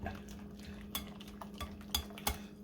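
Eggs with Parmesan Reggiano being mixed for a frittata, quiet soft scraping and a few sharp clinks of a utensil against a bowl or pan, with no talk.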